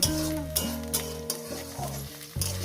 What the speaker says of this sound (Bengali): আমি এটাকে এবার ভাজবো